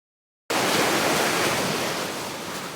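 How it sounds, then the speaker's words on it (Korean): Ocean waves wash steadily onto a cold winter shore in sub-zero weather with a biting wind. The sound is a loud, continuous rushing surf that starts abruptly after a short silence and eases slightly toward the end. "파도 소리 좋습니다."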